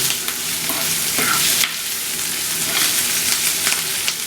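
Drumstick leaves frying in a pan with a sprinkle of coriander powder being stirred in, a steady loud sizzle punctuated by scraping spoon strokes, no talking.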